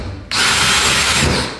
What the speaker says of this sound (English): Hole number one has been drilled,